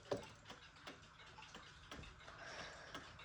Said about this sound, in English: Even though it doesn't chime, it has a very soft ticking noise.